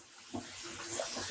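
Water runs steadily into a basin being filled for dyeing black yarn at home, a continuous hissing pour with a faint gurgle underneath.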